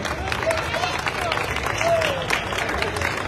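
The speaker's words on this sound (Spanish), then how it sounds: "Voy a pedir un fuerte aplauso para el maestro Arturo de Medellín" A crowd at an outdoor school mariachi event applauds a teacher with steady, dense clapping over a noisy background of chatter and voices.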